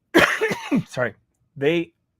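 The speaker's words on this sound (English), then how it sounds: "that's going to sound awful on audio, that cough" A single harsh cough right after someone speaks, close and fairly loud, followed by a brief pause.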